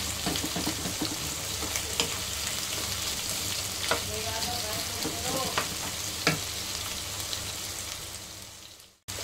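Chopped medium onions frying in a pan over a medium flame for mutton kalya, a steady close sizzle with occasional stirring clinks, ending abruptly.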